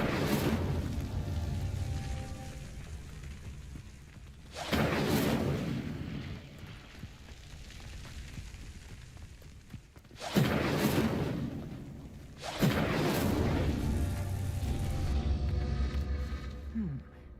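Incendio fire spell cast repeatedly in the Hogwarts Legacy video game to light pyres: several loud whooshing bursts of flame, each flaring and then trailing off, spaced a few seconds apart.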